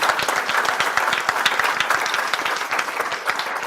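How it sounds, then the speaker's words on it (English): Room audience at a talk on regulation breaks into a brief, steady round of clapping, dense and even for a few seconds with a faint voice or two underneath. "Can we do a big round of applause over that?"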